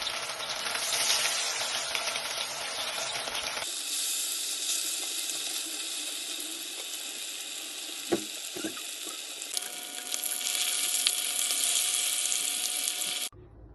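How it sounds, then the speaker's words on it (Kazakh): Battered fish frying in hot oil gives a steady, loud sizzle that runs the whole time, with brief crackles and a few small knocks midway and no talk. "Енді балығымызды осы смеске салып және қызып тұрған майда қуырып аламыз."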